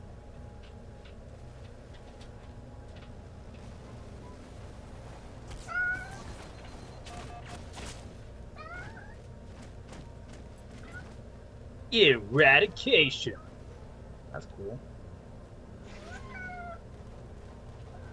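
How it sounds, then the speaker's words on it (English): A cat meows a few times close by, with a brief cluster of louder calls partway through, over the background sound of a zombie-infection shooter game and a voice talking. "Silence cat"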